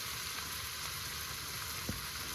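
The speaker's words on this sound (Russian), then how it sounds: "Сейчас поужинаем, жарим баранинку." Lamb meat frying in a pan at a lakeside fishing camp gives a steady, dense sizzle throughout, moderately quiet and close, with a single faint knock near the end and no voices.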